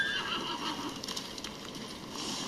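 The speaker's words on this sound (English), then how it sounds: "Call my horse." A horse in the samurai video game Ghost of Tsushima whinnies when called, then hooves clop on the ground at moderate distance over a soft ambient background.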